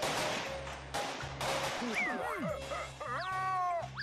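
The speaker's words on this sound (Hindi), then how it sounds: "यहाँ सामने आतिशबाजी हो रही है।" Cartoon fireworks going off, with whistling rockets sliding up and down in pitch between bursts and pops, repeated several times under talking.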